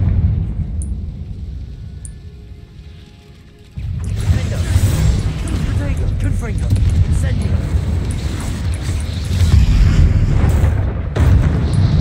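A Confringo blasting spell explodes in Hogwarts Legacy, with a sudden loud boom after a quieter stretch, followed by sustained rumbling and crackling blast noise and another surge near the end.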